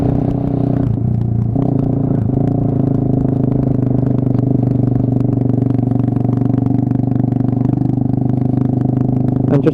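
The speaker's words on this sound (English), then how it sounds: "just chugging along in third gear" A Suzuki Marauder motorcycle chugs along in third gear, its engine giving a steady, close, throbbing low drone with faint clatter and wind over it.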